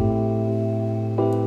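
A low, sustained bass line from a Nexus synth with the high end filtered out, a warm droning tone that shifts pitch briefly near the end.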